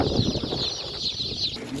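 Chicks at an outdoor village animal market, a continuous high chorus of peeping over a steady background of crowd and outdoor noise.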